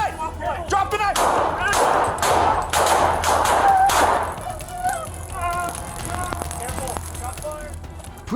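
Gunshots ring out during a police confrontation with a knife-wielding man outside a restaurant, a rapid loud burst of cracks mixed with shouting voices and street noise, followed by more scattered commotion.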